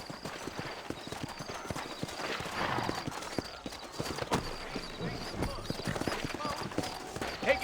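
Horse hooves clip-clop steadily on a town street in the Red Dead Redemption video game on PC, a continuous rhythmic trot close by, with someone talking over it and a brief whinny.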